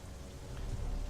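Rain falling in the video game Crysis 3, a steady soft hiss of drops with a low rumble beneath, faint and continuous with no voices.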